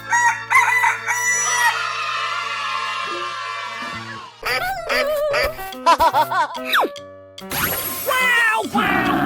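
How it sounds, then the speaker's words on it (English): Rooster crows in a bright, loud cock-a-doodle-doo inside a playful 3D animal slide game, followed by clucks and chiming game effects across several bursts, with no talking. "Chicken."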